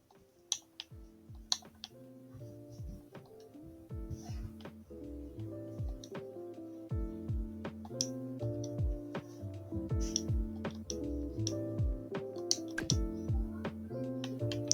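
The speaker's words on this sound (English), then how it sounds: "sorry if you hear my controller sounds." Game controller buttons click and tap in a quick, irregular rhythm, close and faint, alongside background music and sound from a Trailmakers vehicle-building game.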